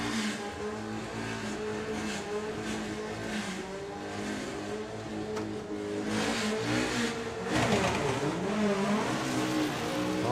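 A drag racing car accelerates hard down the track at Bug Jam at Santa Pod, its engine roaring and climbing in pitch with a surge toward the end, heard from the side of the strip over crowd ambience.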